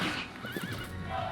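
A horse whinnies in the strategy game Bonaparte: A Mechanized Revolution, a wavering high-pitched neigh in the middle of the moment over a steady battlefield din, with faint clip-clop of hooves nearby.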